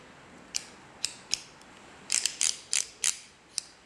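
Crisp, close mechanical clicks from adjusting a target archery sight, an Axcel or Shibuya, a few spaced single ticks followed by a quicker run of ratcheting clicks, with no talking over them.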